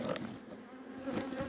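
Honeybees buzz around a hive frame as it is handled during a swarm-control intervention, a close, continuous drone of many wings with no talk.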